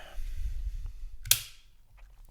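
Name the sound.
handling FN 509 Compact pistol, checking it is unloaded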